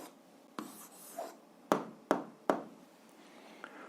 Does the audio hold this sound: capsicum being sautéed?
no